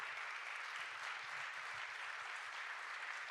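Audience applause for a singer at a Christmas folk event in Tortolì, a steady, dense wash of clapping held evenly throughout with no voices.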